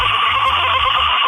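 A voice mimics a confused goat on roller skates screaming as it rolls downhill, a loud, strained, sustained bleating cry that holds steady for over a second without pause.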